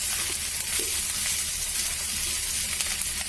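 Garlic paste stirred and sautéing in a pan, a steady close sizzle with soft scraping of the spoon running throughout, no voices.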